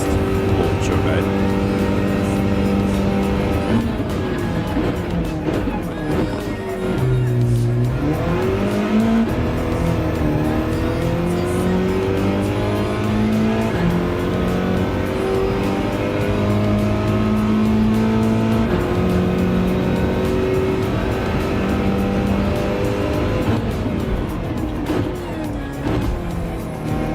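A Toyota Supra race car at a drag race revs loudly, then launches and climbs hard through the gears in a long, rising engine note, with someone talking over the roar.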